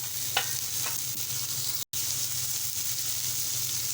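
Finely chopped tomato frying in a pan for a potato stir-fry, a steady close sizzle with a few brief crackles and a short dropout partway through.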